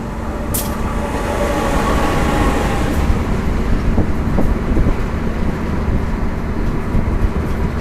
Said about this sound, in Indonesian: Kereta api Matarmaja sudah tiba di jalur 1 stasiun Kepanjen.